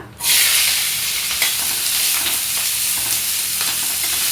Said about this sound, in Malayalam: നമുക്ക് പച്ചമുളകും സവാളയും കൂടി ആദ്യം ഇട്ട് കൊടുക്കാം